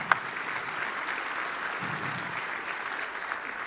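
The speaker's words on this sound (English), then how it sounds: "You guys owe her a big round of applause." An audience at an Air & Space Conference applauds a senior airman, a steady wash of clapping from a large hall that holds at an even level throughout.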